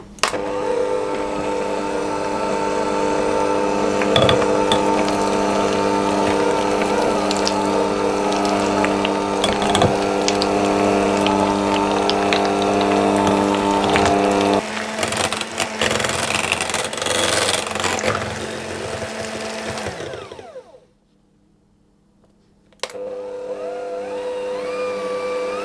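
An electric hand whisk runs on its slow setting through limoncello tiramisu cream, a steady loud motor whir with a rattling mechanical edge for about twenty seconds, then a brief stop before it starts again.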